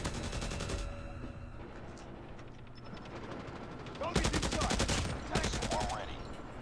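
Rapid bursts of automatic fire from the Hades gun in Call of Duty Mobile rattle out in clustered volleys, loudest near the end, with a voice and game sounds mixed underneath.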